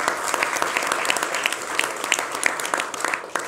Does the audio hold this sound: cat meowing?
no